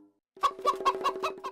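A cartoon chicken from the animated comedy Motu Patlu clucks in a quick run of about six loud, close, rhythmic squawks after a brief silent pause, with no talk over it.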